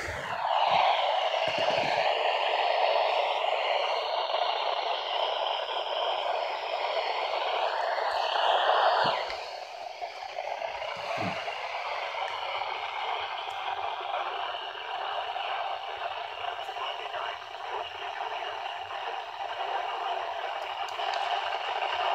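Steady hissing radio static on a weather band channel, with faint warbling tones running through it, continuous and moderately loud for over twenty seconds with a brief shift partway through.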